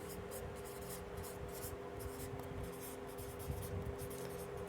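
Chalk or marker scratching steadily across a board during a physics lecture on hydrostatics, a continuous rubbing stroke pattern close by under a constant background hum, with no talking.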